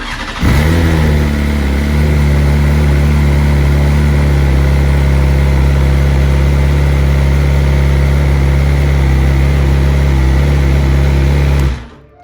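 A BMW S1000RR motorcycle engine fires up and settles into a loud, steady idle with its exhaust valves open, a deep throbbing rumble holding evenly for about eleven seconds before cutting off.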